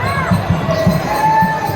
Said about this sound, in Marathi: फुल एकदम गर्दी आहे